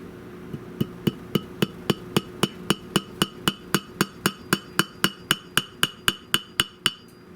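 Original rivets are hammered onto the brass data plate of a 1923 16-inch GE AOU Loop Handle fan, about twenty sharp metallic taps struck in an even, steady rhythm, close and alone.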